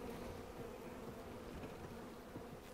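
Honey bees buzz thickly around an open beehive while a beekeeper works the frames, a dense, continuous hum with no pauses.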